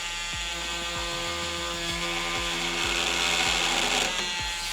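A multi-tool oscillating on its lowest speed against wood. It gives a steady buzzing drone with a quick rhythmic ticking over it, close and fairly quiet, with no one talking.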